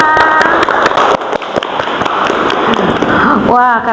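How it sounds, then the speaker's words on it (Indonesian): A classroom group claps together during a school guidance counseling session, a loud, busy patter of hands that runs the full few seconds, with voices mixed in and a brief tonal sound at the very end. "Tepuk tangan untuk moto hidup kita semua."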